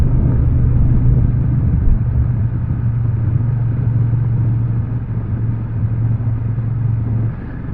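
Honda XL750 Transalp motorcycle engine held steady in fourth gear at about 50 km/h, a continuous low droning rumble with a steady hum, close and even throughout with wind noise and no talking.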